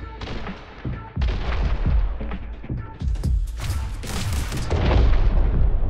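Heavy shotgun blasts in The Hong Kong Massacre, several booming shots spaced irregularly with loud bursts of impacts and debris, dense and close, with a voice talking in between.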